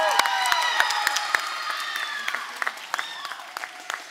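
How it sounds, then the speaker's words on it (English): Audience applause with scattered sharp claps fading gradually over about four seconds, greeting a cast member introduced on stage at a performance, with light crowd murmur underneath. "Give a big round of applause."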